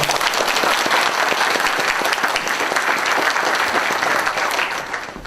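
An audience at a political book concert in Changwon gives a hearty round of applause, dense continuous clapping that holds steady and begins to thin out near the end.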